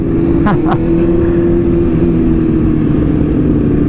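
Sport bikes on a large group motorcycle ride, steady loud engine drone close by throughout, with a brief higher rev-like sweep early on.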